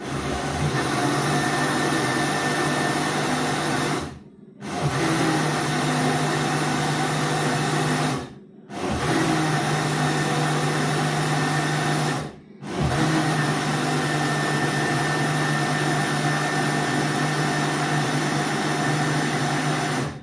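Electric mixer beating cake batter at slow speed, a loud continuous motor hum interrupted by three brief pauses, close up with no talking.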